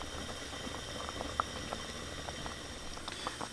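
Sweet coconut milk for bua loy glutinous rice ball dessert coming to a boil in a pot, a steady soft bubbling and fine patter with small pops, close and continuous.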